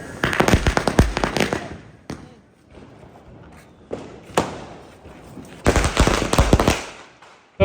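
Firecrackers burst loud and close, with clusters of rapid sharp cracks and thuds, short quieter gaps between them, and a final volley.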